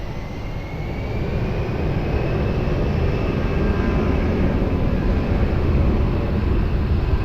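An airliner takes off from runway 20 at Lisbon Airport, a loud, steady jet engine roar that swells slightly and holds with a broad rushing rumble, no voices.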